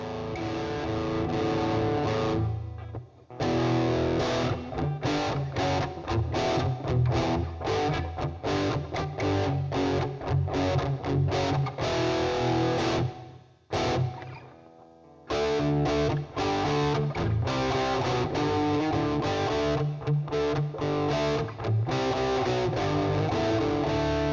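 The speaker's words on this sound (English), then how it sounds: "That's basically just an overdrive with a little bit of reverb to it." Overdriven electric guitar played through a Lekato cube amp with light reverb, loud dense distorted chords and riffs filling the clip, with a brief dropout in the middle before playing resumes.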